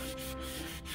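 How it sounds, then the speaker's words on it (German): Abrasive sanding fleece rubs back and forth over a part, a close, steady scratchy scrubbing with short rhythmic strokes. "Das reibe ich jetzt nochmal hier alles ab schnell."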